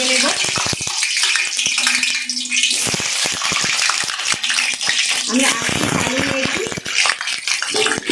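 Potatoes frying in oil left over from fried onions for chicken biryani crackle and sizzle busily, with frequent clattering stirs, while a voice talks intermittently over the cooking.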